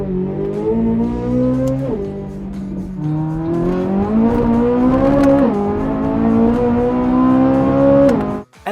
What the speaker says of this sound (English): Put it through its paces, some pretty hard cornering, full throttle accelerations.